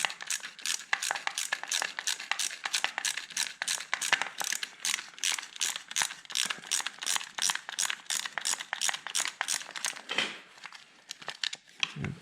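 Ratchet wrench loosening a 10 mm bolt on a seized 2004 Honda CRF 450 R, close rapid clicking in quick repeated bursts of strokes with brief pauses, no talk.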